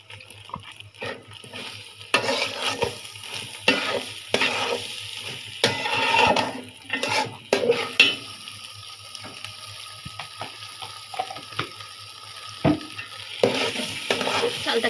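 Ginger and garlic paste frying with rice in a large cooking pot for wedding-style chicken polao, with a steady sizzle under repeated irregular scraping stirs and clanks, close by.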